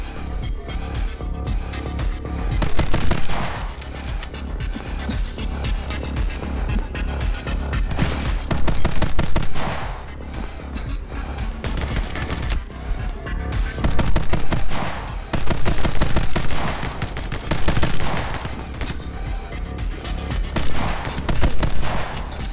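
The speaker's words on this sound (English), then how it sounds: "Well placed sniper shots there." Sniper rifle shots and other gunfire in the action video game My Friend Pedro, with dense, loud bursts of rapid fire and booms repeating throughout, and louder volleys arriving every few seconds.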